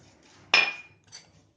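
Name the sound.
putting flour into a big mixing vessel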